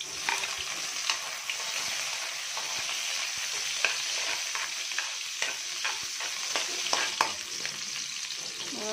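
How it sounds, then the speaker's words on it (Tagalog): Garlic and onion sauté in hot oil in a pan, a continuous sizzle broken by frequent spatula scrapes and light clinks, close and moderately loud, without speech. "nagpainit na tayo ng mantika sa kawali. Tapos, lagay natin yung bawang at sibuyas"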